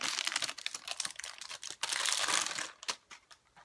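Plastic packaging around a new hard drive for a Synology DS1515+ NAS is torn and crinkled open in a burst of close, harsh rustling that tapers off into a few sharp crackles.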